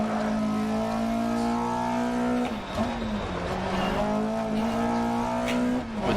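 Rally car in DiRT Rally 2.0, a low-power, low-weight machine, its engine revving hard and steady while the tyres squeal and skid through sliding corners, loud and close throughout.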